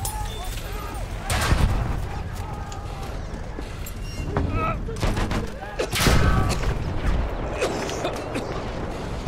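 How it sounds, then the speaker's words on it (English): Enemy machine gun fire in Battlefield 1 multiplayer, heavy bursts and booming impacts amid battle noise, with loud clusters around the middle and end and voices over it. "There, enemy machine gun."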